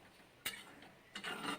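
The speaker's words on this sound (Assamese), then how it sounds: "কেৰাহী গৰম হ'ল, তাত মই নাৰিকলখিনি ঢালি দিওঁ" Grated coconut dry-roasted without oil in a hot kadai, stirred with a utensil: faint background hush broken by two brief scraping, rustling stirs, the second longer, close and quiet with no talk.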